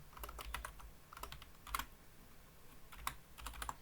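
Keys clatter on a computer keyboard while C++ code is typed in Visual Studio, quiet close-up bursts of keystrokes with brief pauses, no talking.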